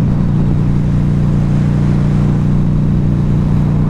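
A 2012 Harley Davidson V-Rod Muscle motorcycle cruises with a steady, loud, close engine drone and wind rush, holding an even rumble throughout.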